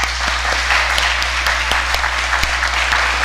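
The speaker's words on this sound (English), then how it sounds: "I'd like to give a round of applause of appreciation for Morgan." An audience applauds steadily, many hands clapping together in a dense wash of sound with a low hum underneath.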